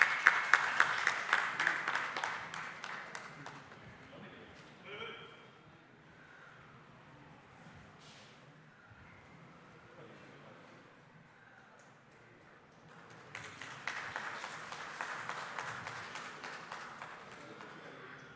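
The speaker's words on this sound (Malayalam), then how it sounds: "നല്ലൊരു കൈയടി കൊടുത്തുകൊണ്ട് പ്രോത്സാഹിപ്പിക്കാം." Audience applause at an annual day award ceremony of a nature photography club in a museum hall, with dense clapping at the start that fades into quiet room noise, then a second loud burst of clapping toward the end.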